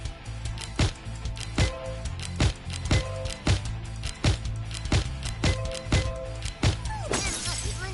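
Sharp shattering smash effects from the game Pretty Girls 2048 Strike on PS5 crack out at a steady rhythm, roughly every 0.7 seconds, over a low looping game music bed.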